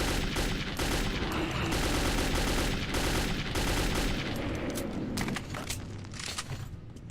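Rapid, sustained gunfire from soldiers in the video game Metro 2033, loud and dense bursts filling the whole stretch, easing slightly toward the end with scattered sharp shots.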